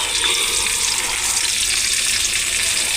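Onions and capsicum frying lightly in oil in a pan for chilli chicken, giving a steady, close hiss of sizzling with no talk.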